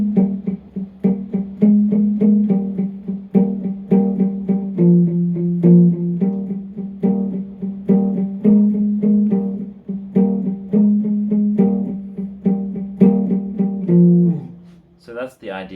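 A palm-muted electric guitar plays a lead line of short, choppy, damped notes in a steady rhythm, fairly loud, ending with a brief pick scrape.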